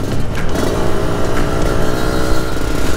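A 1991 Yamaha RXZ motorcycle engine runs nearby, giving a loud, steady two-stroke idle with a dense, rattling low-end buzz that never lets up.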